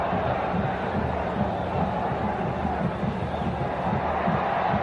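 A stadium crowd of Corinthians supporters at the 1982 Campeonato Paulista final against São Paulo, a dense, steady roar of many voices cheering and chanting throughout, distant and continuous without breaks.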